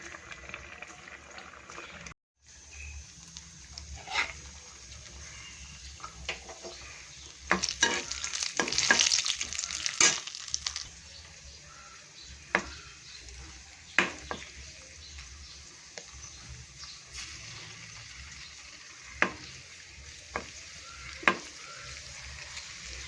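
Nuts and raisins frying in a pan for a fish molee, a soft steady sizzle broken by several sharp stirring scrapes and clatters, close and alone with no voices.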